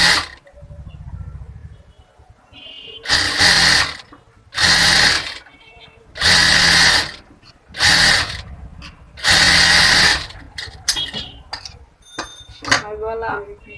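Electric sewing machine stitching the neckline of a bra-cut blouse. Loud whirring bursts of two seconds or less come in a run of about six, separated by brief pauses and quieter handling noise.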